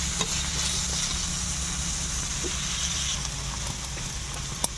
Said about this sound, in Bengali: এখন আমি গাজরটা দিয়ে দেব, গাজরটা অল্প নেড়ে দেব।